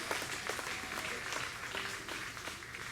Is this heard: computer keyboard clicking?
no